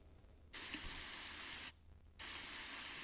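A rain soundscape plays from TOZO NC9 earbuds as a steady wash of falling-rain hiss. It runs in two bursts with a short quiet gap between them, heard faintly and alone.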